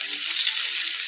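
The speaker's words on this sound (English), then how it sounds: "That's actually the delicious sound of sizzling bacon" Bacon sizzles in a pan, a steady bright hiss and crackle running continuously and fairly loud throughout, with no voices over it.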